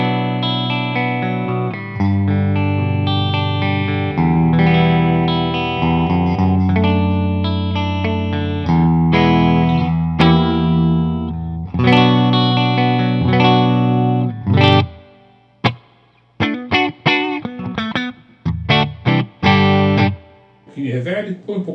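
Electric guitar played with a clean tone through a Two Rock Amethyst amplifier into Celestion G12T-75 and Vintage 30 speakers, miked with Sennheiser e609s: sustained chords and picked notes, loud and close, breaking into short staccato stabs near the end.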